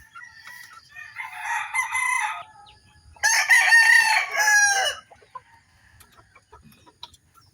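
Chickens and chicks cluck and a rooster crows loudly nearby, two bursts of crowing separated by a pause, with soft clucking continuing underneath.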